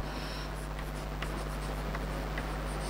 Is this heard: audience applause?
no